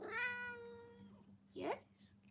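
A new pet cat named Dusty gives a drawn-out, close meow followed by a shorter chirping meow, faint and indoors.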